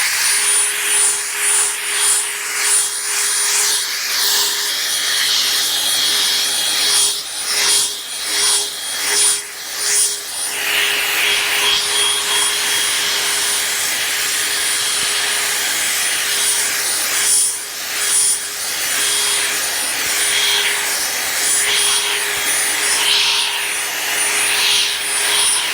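A 3000-grit pad on a sanding tool working over the paint of a 2005 Ford F150 King Ranch, a continuous bright whirring hiss with rhythmic rubbing pulses as the pad sweeps across the panel, close and loud.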